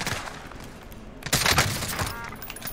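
Gunfire in the Warzone video game: a loud burst of rapid shots erupts partway through, following a quieter stretch of background game noise, with the shooting continuing at a steady intensity to the end.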